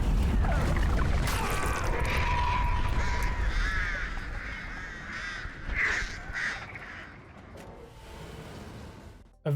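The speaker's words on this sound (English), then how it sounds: "I really like the dire crow that flies up out of the survivor" A crow caws during a killer Mori finishing move in Dead by Daylight, with loud repeated harsh calls that fade, mixed with game effects.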